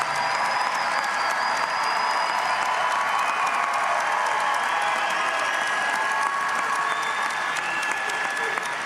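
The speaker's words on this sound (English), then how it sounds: "And let's give another round of applause for all of our graduates." Applause for graduates at a university commencement ceremony, a large crowd clapping continuously and evenly with a broad, roomy wash of sound.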